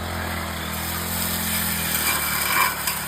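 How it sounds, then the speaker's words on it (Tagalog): A 4-stroke brush cutter drones steadily on a small farm, its engine holding a constant mid-distance hum with a slight rise toward the end, no voices. "Doon kayong 4-stroke nga brush cutter ay"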